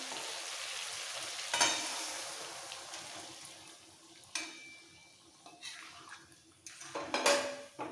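Boiled lentils tipped into a pan of frying tomato and onion for chicken tarka, with a close, steady sizzle, scraping spoon strokes and sharp clinks against the pan, growing busier as the mixture is stirred.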